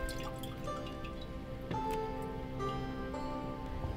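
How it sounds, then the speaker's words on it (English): Water poured over a clay teapot runs off its surface and drips, a soft continuous trickle with scattered small drops and a brief louder splash partway through, heard close and alone. "The pot is seasoned by repeatedly pouring water over the surface."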